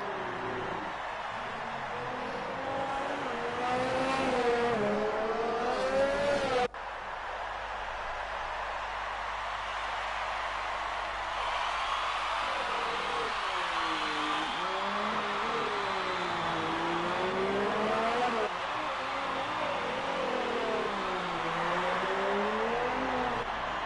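Formula 1 car in F1 2019 on a rain-hit Mexico track, racing down the long start-finish straight on a fast lap, its engine whining and rising in pitch through upshifts, steady and moderately loud.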